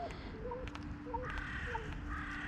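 Crows caw repeatedly in the distance during a Sunday morning feeding, over a steady outdoor background hum, the harsh calls spaced irregularly.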